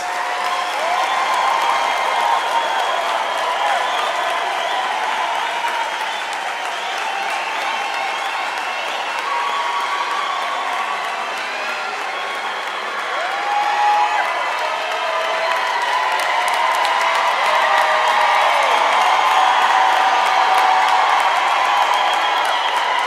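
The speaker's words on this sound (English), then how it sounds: "Can we please give our graduates a thunderous round of applause?" A large audience at a University of South Africa autumn graduation ceremony bursts into sustained applause mixed with cheering and whoops, a dense, steady wash of clapping and crowd voices that holds loud throughout.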